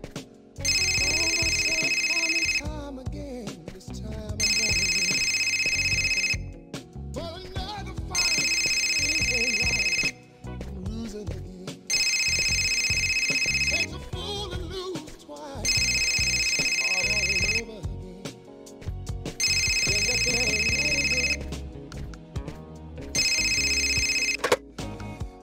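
In the video game Fahrenheit, a telephone rings in repeated electronic bursts about two seconds long with short pauses between them, while people talk underneath at moderate volume.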